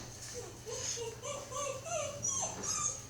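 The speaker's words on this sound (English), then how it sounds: "And there's the puppies." Small puppies whimper and yip indoors at home in a string of thin, high, wavering cries that come and go over a low background hum.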